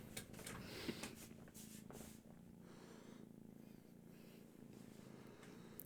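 A kitten purrs softly and steadily up close, a low, continuous rhythmic rumble with a faint snuffle near the start.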